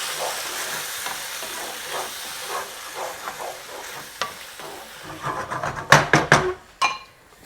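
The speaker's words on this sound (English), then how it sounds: "And next goes in a tin of chopped tomatoes" Chopped tomatoes from a tin go into a hot pan of paneer egg jalfrezi, with steady frying sizzle and stirring scrapes that grow louder and sharper near the end as the tomatoes hit the oil.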